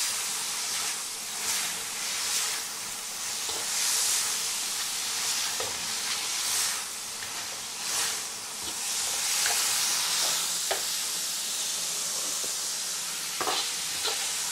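Cured-meat fried rice is tossed and stirred in a hot wok, giving a continuous loud sizzle and steamy hiss, with scraping strokes of the spatula and occasional sharp clinks. No voices are heard.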